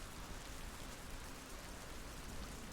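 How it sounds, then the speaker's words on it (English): Rain falling outside as a steady, even hiss of dense drops, continuous and fairly soft with no other sounds. "The rain out there is just for you."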